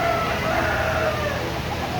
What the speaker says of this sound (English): it looks like we got the chickens over here.